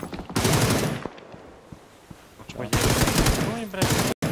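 Video game gunfire: two long, loud bursts of rapid automatic fire separated by a quieter gap, close and dense, with a sharp cutoff near the end.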